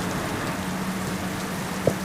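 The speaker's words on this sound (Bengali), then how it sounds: "গাইজ আবারও বৃষ্টি শুরু হয়ে গেল" Steady rain falls around a bus in a game, a continuous even hiss of drops close by with one brief tap near the end and no talking.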